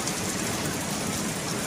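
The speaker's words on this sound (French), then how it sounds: "regardez comment ça pleut bien, ça fait du bien" Rain falling steadily outdoors on a heavy, humid day, a dense even hiss with no gaps or distinct drops, fairly close and continuous throughout, with no voices.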